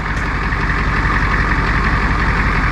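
A Ford F350 pickup's diesel engine with 5-inch straight pipes idles steadily and loudly up close, a continuous low rumble with a rough, knocking texture and no voices.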